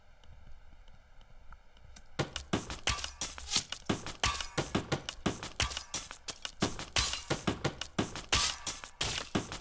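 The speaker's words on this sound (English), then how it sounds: "Blacksmith hammer." Rapid, sharp hammer strikes on metal ring out after a quiet start, landing several times a second in an uneven, busy rhythm.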